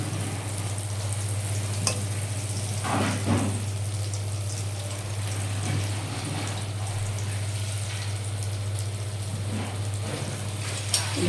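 Food being fried crisp in a pan, a steady moderate sizzle with occasional stirring scrapes over a constant low hum.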